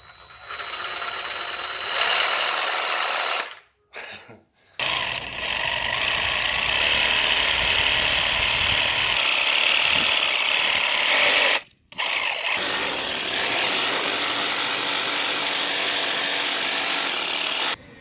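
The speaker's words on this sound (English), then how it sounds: "It is a Sawzall blade attachment with a coarse wire brush." A Sawzall reciprocating saw fitted with a coarse wire brush attachment scrubs old concrete, a loud, steady, close buzzing rasp that runs almost without a break, stopping for two short pauses.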